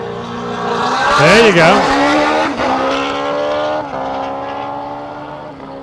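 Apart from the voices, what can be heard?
race car making a single autocross run at Portland International Raceway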